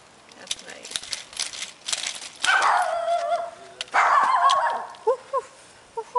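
Small dogs bark and yip in bursts during a stroll, the barks clear and fairly close, with short whimpers and yips near the end.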